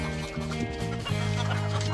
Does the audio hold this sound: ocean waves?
no